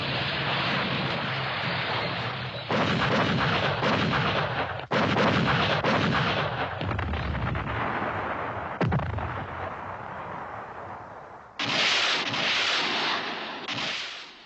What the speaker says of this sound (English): The opening artillery barrage is enough to end resistance.